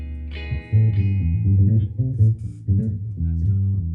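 Electronic instrument played live with its tone effect switched on, giving a bright, processed sound: a run of short rhythmic notes, fairly loud and close, with no talking over it.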